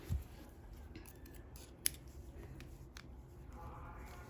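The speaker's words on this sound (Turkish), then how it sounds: "şu şekilde bu ipimi keseceğim buradan" Scissors snip through yarn once in a quiet indoor setting while making a knitted mat on a hairpin loom, a single short crisp cut standing out against low background noise.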